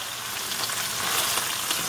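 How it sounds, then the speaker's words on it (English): Pork frying hard in a pan over high gas while being stirred, a dense, loud, continuous sizzle close by with no voices. "Keep stirring so it won't get burned."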